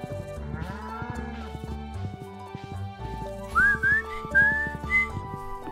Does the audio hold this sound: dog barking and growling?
no